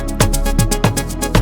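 A ReFX Nexus synth preset played in FL Studio, a sustained tonal pad with a bright shimmering upper layer and repeated plucky attacks every quarter second or so, heard alone over a brief loop.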